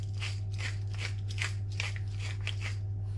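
A pepper mill turns over a dish of peppers, giving about eight rhythmic crunchy grinding bursts, evenly spaced and close, over a steady low hum.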